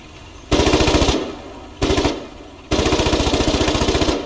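Foxhole gunfire: three loud, close bursts of rapid automatic machine-gun fire, a short burst, a brief one, then a long sustained stream, each shot sharply distinct in a fast rattling rhythm.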